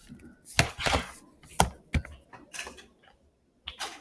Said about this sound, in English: Somebody's knocking on my door, of course.